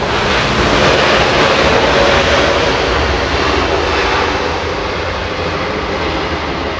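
A Boeing 787 Dreamliner jet airliner roars loud and close at Los Angeles International Airport, its engines a dense, steady rush that stays even and fades only slightly toward the end.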